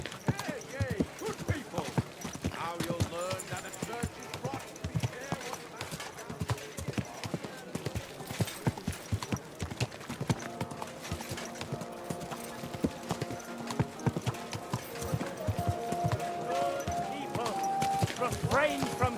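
Steady clip-clop of horse hooves in the video game Kingdom of Come, under ongoing game music and talking voices, with rhythmic hoofbeats running throughout.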